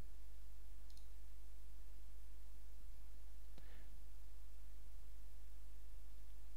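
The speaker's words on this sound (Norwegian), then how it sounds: "klikk på den første." A computer mouse gives two faint, isolated clicks a few seconds apart over a steady low electrical hum during webmail account setup.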